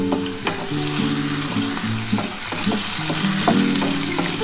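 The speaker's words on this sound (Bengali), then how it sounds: "আলুটা একটু ভেজে নিলাম।" Potatoes fry in hot oil with black cumin, crackling in a continuous bright sizzle broken by short scraping stirs, loud and close, with no talking.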